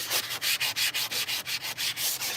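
A new handheld sander rubs back and forth in quick, regular strokes, a close, loud rasping scrub that swells and dips about five times a second, with no voices.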